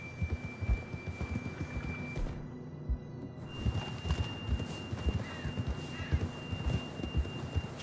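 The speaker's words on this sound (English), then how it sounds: "John was riding that horse when we left Blackwater" Horse hooves trotting in a video game, a soft, regular clip-clop of footfalls at a steady pace under a low ambient hum, fairly quiet and without speech.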